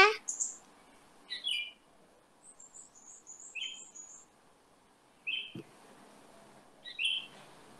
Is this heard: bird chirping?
yes